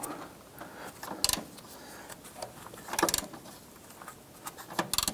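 Close, irregular metallic clicks and ratcheting of a wrench working a lower bolt on a 2005-2007 Ford Five Hundred during a power steering pressure line replacement, in short bursts with quiet gaps.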